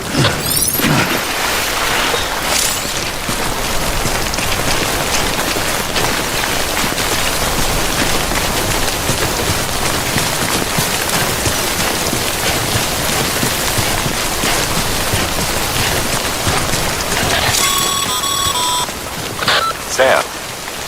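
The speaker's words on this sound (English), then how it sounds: "Don't stay out in the rain any longer than you have" Steady, loud timefall rain pours down throughout in the video game Death Stranding, a dense unbroken hiss with a few faint electronic beeps near the end.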